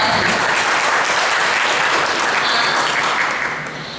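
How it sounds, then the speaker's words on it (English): Audience applause at a cultural festival, dense continuous clapping from a large crowd that holds steady and then begins to fade toward the end. "a hand of applause for that amazing introduction"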